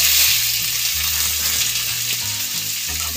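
Loud, continuous sizzling of chopped broad beans frying in hot oil, a dense steady hiss close up, with a low background hum.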